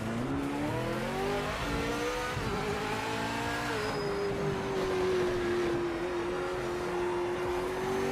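A GT3 race car engine in the Project Motor Racing video game, revving loudly and steadily with pitch climbing and dropping as it shifts down and up through several gears.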